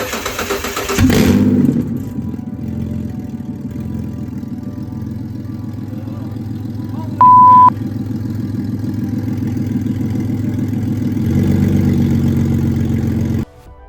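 A Ford Territory engine runs after an engine swap, catching with a brief rev and then settling into a steady idle, close and loud, with a short high beep partway through and a slight rise near the end.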